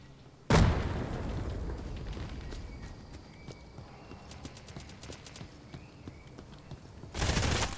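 Grenade launcher rounds explode in the shooter game Hired Ops, with a loud blast at the start and another at the end, separated by quieter rattling gunfire and clicks.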